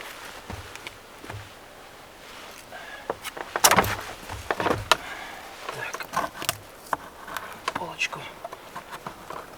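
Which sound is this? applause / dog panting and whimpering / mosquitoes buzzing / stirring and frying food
mosquitoes buzzing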